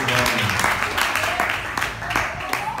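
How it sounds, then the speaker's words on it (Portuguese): A church congregation applauding during a service, clapping mixed with crowd voices and music underneath, fairly loud and steady with a few distinct sharp claps. "dê uma salva de palmas para o Senhor"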